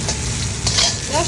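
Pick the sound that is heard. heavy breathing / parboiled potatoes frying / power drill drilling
parboiled potatoes frying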